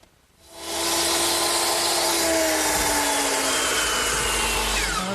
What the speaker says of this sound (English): now that completes the cut at the top of the 2x4 standards, which will support the canopy